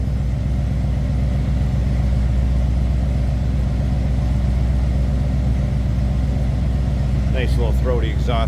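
A 1986 Chevrolet C10 with a swapped 5.3 liter LS V8 idles steadily with a deep, throaty exhaust rumble, an even low drone throughout, with a brief burst of other noise near the end.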